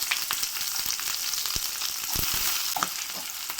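Chopped onions fry in hot oil for a mushroom and capsicum gravy, with a close, continuous sizzle broken by scattered pops and spoon-stirring clicks.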